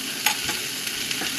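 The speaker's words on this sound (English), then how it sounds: "Just gonna stir it around." Stir-fry of chicken with broccoli, cauliflower and yellow carrots gets stirred in a hot cast iron pan, a steady loud sizzle broken by a few scraping knocks of the utensil against the pan.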